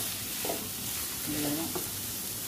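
Chana dal fries in a pan while being stirred, a soft steady sizzle with a few scraping strokes and faint tonal clinks, heard up close without speech.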